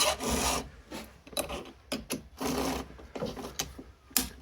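A chainsaw chain is sharpened with a hand file, the saw turned around for the other side: a series of short, close, gritty rasping strokes in an uneven rhythm, with no voices.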